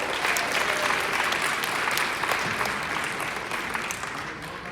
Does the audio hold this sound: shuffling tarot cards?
no